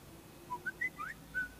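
A car tracking device's text message alert on a phone sounds as a few short, bright whistle-like chirps rising in pitch, moderately close and clear over a quiet background, with no talking.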